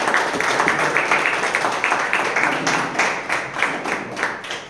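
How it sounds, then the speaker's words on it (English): An audience at a Toastmasters club meeting claps steadily in a dense, sustained round of applause that holds for several seconds. "Big round of applause to all the role players."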